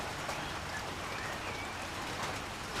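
Steady rain falls outdoors, making a constant, even hiss of drops on surfaces that stays at the same level throughout with no voices.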